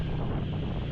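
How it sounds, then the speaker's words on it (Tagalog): Steady wind roars and buffets against the microphone during a motorcycle ride on a Yamaha, loud and continuous with no voices. "yung hangin sobrang lamig."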